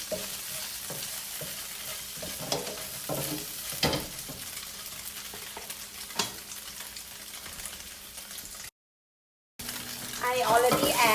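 Tofu, preserved radish, dried shrimp and shallot are stir-fried in a pan for pad thai, giving a steady sizzle with repeated scraping stirs for about nine seconds, a brief gap, then louder frying.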